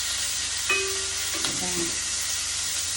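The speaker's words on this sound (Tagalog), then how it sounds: "Tapos ipa-fry natin ulit para crispy" Pork pieces frying in their own rendered fat in a pan until crisp: a constant, bright sizzle with a couple of light clinks from a utensil against the pan.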